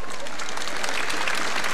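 Dense applause from a crowd welcoming hussars at the Debrecen Flower Carnival, bright and steady throughout, rising slightly toward the end.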